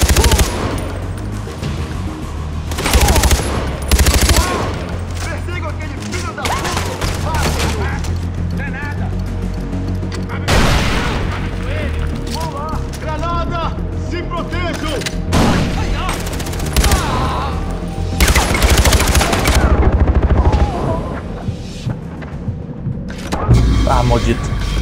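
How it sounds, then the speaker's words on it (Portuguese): Sustained gunfire in the video game Far Cry 4, with repeated bursts of automatic fire and heavy shots under a dense game soundtrack. Brief speech is mixed in. "Tem alguém atirando."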